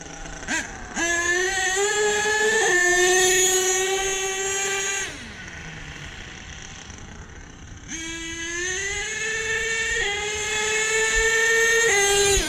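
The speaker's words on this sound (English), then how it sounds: "he ain't even shifting yet. There's third gear, finally." A truck engine revving hard at a truck event, whining pitch climbing, dropping for a shift, then climbing again, loud, close and continuous, with no talking.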